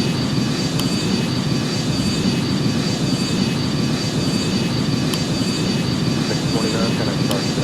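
Loud, steady jet engine roar of an Icelandair Boeing 757-200 taking off from Rome, a broad continuous rumble filling the whole stretch without pause.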